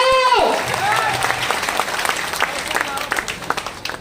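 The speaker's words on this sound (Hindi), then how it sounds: "एक बार ताली बजाएं" An audience at a network marketing achievers' event claps together. A brief tone sweeps down at the start, then crowded clapping swells and gradually thins into scattered claps, with voices mixed in.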